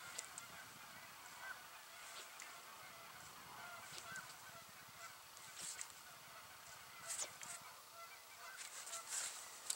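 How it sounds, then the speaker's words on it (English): Geese squawking and honking at Camanche Lake in December, faint and distant calls that come and go over a steady outdoor hiss. "And the geese are still here."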